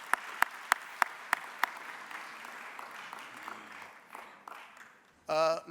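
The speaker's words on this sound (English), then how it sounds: "Shall we give another round of applause to the DM, please?" Applause at a business conference starts with a few loud, evenly spaced claps close by, then thins into scattered distant clapping with brief talk in the room before a louder voice cuts in at the end.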